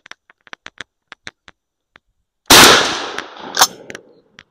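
A Nova shotgun fires a homemade load of cast lead shot: one loud, sharp blast with a decaying boom, preceded by light handling clicks and followed by a few small clatters.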